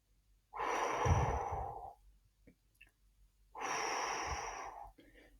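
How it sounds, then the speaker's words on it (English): A person breathes out deeply and slowly during a guided breathing exercise, forcing out as much air as possible in two long, close exhalations separated by a brief pause. "So you're going to breathe out as much air as you can."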